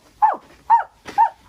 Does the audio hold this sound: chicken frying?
no